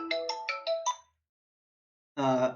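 A phone ringtone from an incoming call plays a quick run of bright melodic beeps, then falls silent before a second burst starts, loud and close with no talking over it.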